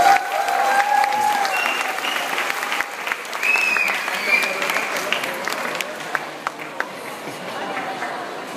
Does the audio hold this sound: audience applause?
yes